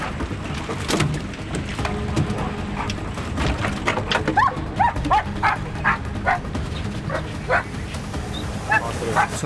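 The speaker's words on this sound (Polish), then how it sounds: "Czekamy na psa. Zobaczymy, czy wyczuje narkotyki." Sniffer dog barking repeatedly in short sharp bursts while searching a boat for smuggled drugs, with a steady engine-like rumble underneath and occasional voices.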